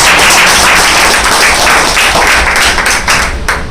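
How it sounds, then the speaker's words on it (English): Audience applause fills a rewards and recognition ceremony, dense sustained clapping from a crowd at steady loudness throughout, tapering slightly toward the end. "So I also want to please give an applause for our Nandini and Neha."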